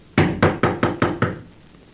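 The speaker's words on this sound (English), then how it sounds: "You going to knock?" Five firm, evenly spaced knocks on a wooden door in an old-time radio drama, close and distinct, with a brief silence after the last rap.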